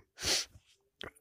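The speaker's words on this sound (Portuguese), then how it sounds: "eu vou mutar rapidinho que eu vou espirrar" A single sharp, loud human sneeze bursts out, followed by a short breathy snort and a brief rustle after a pause.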